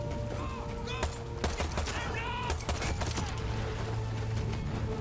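A small pistol fires repeatedly in Far Cry 6, sharp cracks popping irregularly through a busy battle mix of fainter shots and effects, fairly quiet overall.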